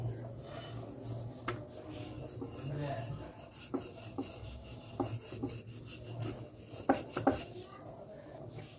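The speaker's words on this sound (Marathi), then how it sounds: "तर आता लाटून घेऊया. हलक्या हाताने लाटून घेऊ." A rolling pin works soft fasting paratha dough, making quiet rubbing strokes broken by scattered light taps and knocks on the board, faint and close.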